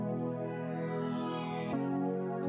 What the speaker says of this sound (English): There's a little synth that comes in the chorus.